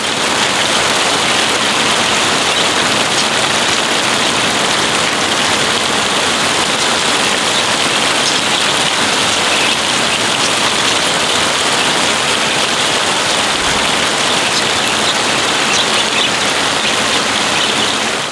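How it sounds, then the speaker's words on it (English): Heavy rain pours steadily onto a budgie aviary, a loud, unbroken broadband hiss and patter that holds at the same level throughout with no voices. "As the heavy rain arrived"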